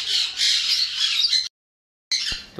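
Pet birds squawk loudly and continuously while grain feed is scattered for them, a dense harsh chorus that cuts off abruptly into silence before the squawking resumes.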